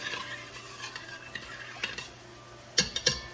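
A cup and a half of food is stirred in a pot before pressure cooking, with a soft, faint sizzle under gentle scraping and a few sharp metallic clinks of the spoon near the end, close and without voices.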